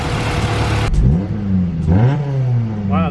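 A Honda Civic EG hatch engine is revved in a couple of quick throttle blips, pitch sweeping up and settling back between them, close and fairly loud with no voices.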